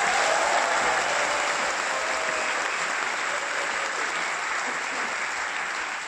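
Audience applause for string players being introduced on cello, viola and violin, a continuous wash of clapping that holds steady and fades slightly toward the end, with no talk over it.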